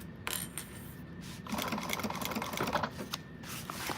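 A sewing machine runs in short stop-start bursts, basting the sides of a slouch shoulder bag, its quick needle rattle mixed with light clicks and taps, fairly quiet and close.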